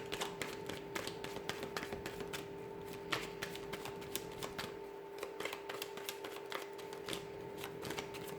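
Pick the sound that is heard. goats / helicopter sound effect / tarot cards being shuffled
tarot cards being shuffled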